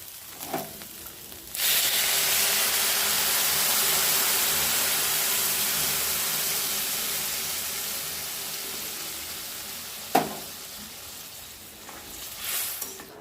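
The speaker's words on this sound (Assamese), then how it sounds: "এয়া ভজা হৈ গৈছে আৰু এতিয়া মই ইয়াতে ঢালি দিম গৰম পানী" Hot water goes into a hot pan of fried egg and soya bean curry, bursting into a loud close sizzle that slowly fades, with a clank of utensils near the end.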